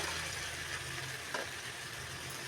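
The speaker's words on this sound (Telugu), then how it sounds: "ఇప్పుడు బాగా కలుపుకోవాలి." Boiled potatoes, peas and beans stirred into a tomato curry base in a hot pan give a steady, soft sizzle, with one brief scrape of the spoon partway through.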